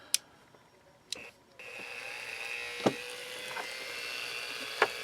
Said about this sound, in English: this is also an adjustable Dremel tool. So I am going to use it on the lowest